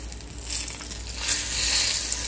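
Snapper fries in a pan just after being flipped, making a loud, close sizzle that swells and grows brighter as the fish settles into the hot oil.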